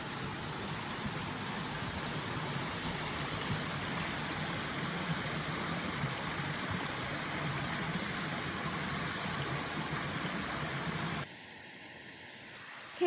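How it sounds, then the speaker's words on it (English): Stream water flowing along a hiking trail near a footbridge in a park, a soft steady rushing hiss at low level with no voices, dropping slightly quieter in the final seconds. "Let you listen to this beautiful water sound."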